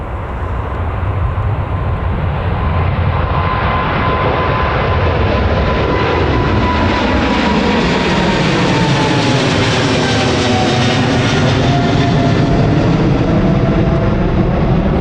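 Jet aircraft at Newcastle Airport, a loud, sustained engine roar that swells and shifts in pitch as the plane passes, dominating the scene with no talking.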